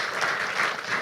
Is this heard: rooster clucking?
no